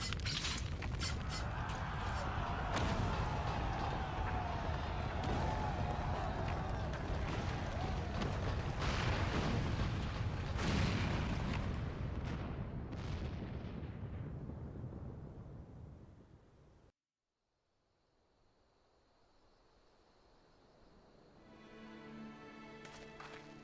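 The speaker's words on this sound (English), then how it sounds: "It must have been a cannon at the Castrum" Cannon fire and explosions at a Castrum in the video game Final Fantasy XIV: a dense, roaring barrage of booming blasts and rumbling that builds, then cuts out abruptly into quiet before a tonal swell rises.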